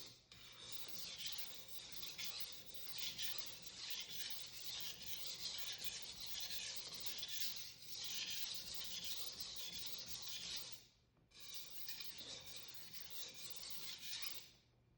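Global carving knife being sharpened on a waterstone, long rhythmic rasping scrapes of steel on wet stone, close and steady, with a brief pause near the end before the strokes resume.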